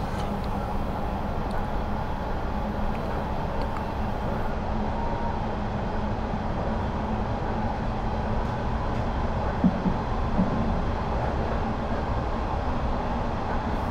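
Steady low rumble and rattling of a London Underground Metropolitan line train moving along the tracks, heard from inside a carriage, continuous with no talking.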